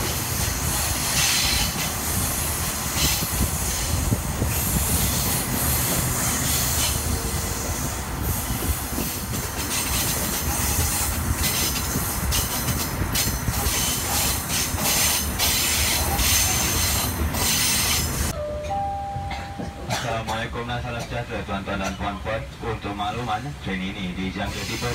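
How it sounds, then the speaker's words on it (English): A passenger train rolls into Kuala Lumpur station on the Malaysian railway, with steady rumbling, clattering wheels and squealing throughout, then quieter braking tones and hiss near the end as it slows; a voice speaks over it. "now the train is entering, yes, entering KL now"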